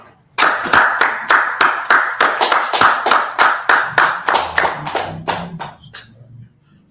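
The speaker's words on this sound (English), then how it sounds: "Let's go ahead and clap it up." A group claps hands together in a steady, even rhythm, about sixteen crisp, loud claps in unison that slow slightly and fade out near the end.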